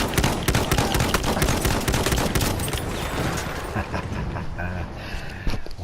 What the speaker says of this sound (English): It's like shooting out of an AA gun, but with the Farquhar Hill.